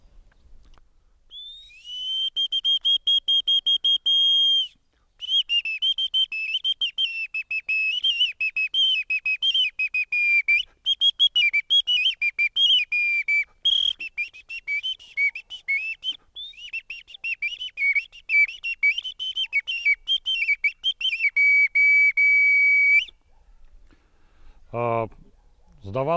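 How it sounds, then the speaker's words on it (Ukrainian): A small Ukrainian clay whistle is played in a long, bright, warbling tone with trills and pitch wobbles, close and loud, broken by a few short pauses, followed at the end by a brief burst of speech. "цей такий малесенький інструмент, глиняний пищик, я зараз вам його продемонструю"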